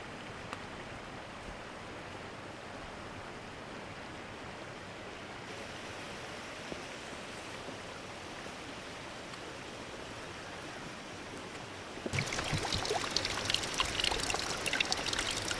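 Water flows down the Sopit waterfall in winter as a steady, soft rushing stream, growing noticeably louder and brighter in the final few seconds.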